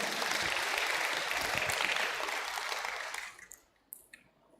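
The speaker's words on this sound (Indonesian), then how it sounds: "Tepuk tangan untuk kita galo-galo." A crowd at a university student orientation event at UIN Raden Fatah Palembang applauds, loud and dense for about three seconds before fading, leaving a few scattered claps.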